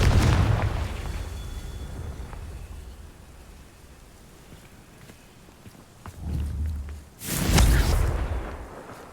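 In the video game Hogwarts Legacy, a Confringo blasting spell goes off as a loud, booming explosion with a crackling tail. It follows a quieter stretch of low rumble after an earlier blast fades at the start.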